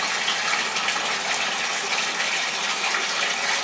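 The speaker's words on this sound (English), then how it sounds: "we'll hit them with some fresh water" Fresh water poured over blackworms in a rinsing container, a steady loud gushing splash running throughout without pause.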